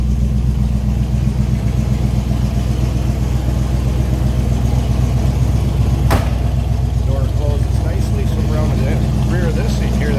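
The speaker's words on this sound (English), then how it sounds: "Rumble. Nice sounding car. Sounds plenty healthy." A 1978 Pontiac Trans Am engine idles steadily with a low, throaty rumble throughout, while a person talks over it and a brief sharp click cuts in midway.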